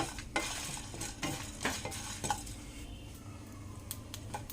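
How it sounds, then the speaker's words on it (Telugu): Dried red chillies and cumin are dry roasted in a pan, a spoon scraping and stirring with soft rustling and faint sizzle, close and quiet, with no speech. "డ్రై రోస్ట్ చేసుకోవాలి. 5-6 ఎండుమిర్చి, జీలకర్ర 1 స్పూను"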